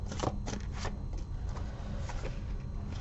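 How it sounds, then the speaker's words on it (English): Faeries Oracle cards being shuffled by hand, a soft, continuous riffling and sliding with a few sharper flicks near the start, close and quiet with no talking. "I'm going to pull one of the Faeries Oracle cards for you now"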